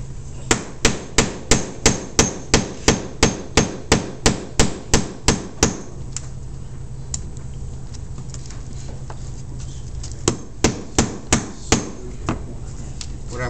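A hammer strikes a nail set to drive a nail deep, with a rapid, steady run of about seventeen sharp, loud blows, a pause, then five more spaced hits.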